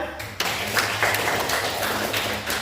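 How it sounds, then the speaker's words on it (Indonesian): An audience in a classroom or meeting breaks into short, brisk applause, a burst of mixed hand claps that holds steady for a couple of seconds. "Kita beri tepuk tangan."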